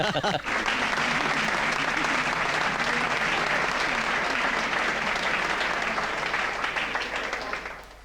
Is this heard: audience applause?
yes